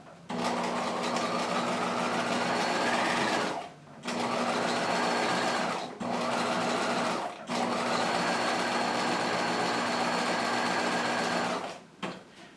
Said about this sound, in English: I'm going to run this line of stitches right along the inside toe here